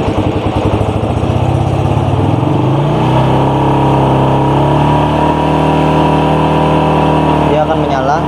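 A Suzuki Satria FU150 motorcycle engine revving in economy mode, loud and close, with the pitch climbing through a rev-up and then holding at a steady drone.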